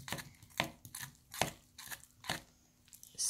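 Glow-in-the-dark slime is stirred and mixed by hand, giving irregular squelching and crackling pulses roughly every half second, close and fairly quiet.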